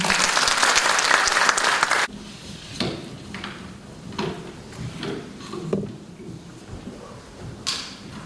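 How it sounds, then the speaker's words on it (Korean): Audience applause welcoming a speaker at a civic gathering, loud dense clapping for about two seconds that stops abruptly, followed by quiet room noise with a few scattered thumps and shuffles. "큰 박수로 맞이해 주시기 바랍니다"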